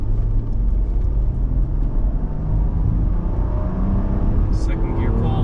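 A 1995 Mercedes-Benz E320 Cabriolet accelerating hard on kick-down, a steady, loud, low engine roar and road rumble from inside the car that holds throughout.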